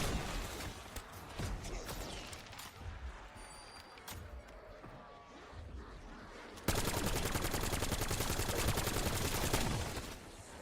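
Sustained gunfire aimed at zombies in the Black Ops 7 zombies mode, with dense shots and impacts throughout, turning into a louder, faster, continuous automatic burst for the last few seconds.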